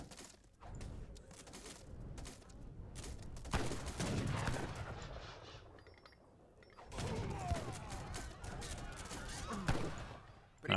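Cannons and gunfire in an Age of Empires III battle, a busy stretch of overlapping shots, heavy booms and crashes rising and falling in waves, with a player talking over it.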